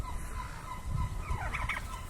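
A turkey gobbles in a short rising burst near a rooster fight, heard over a low rumbling background at moderate distance.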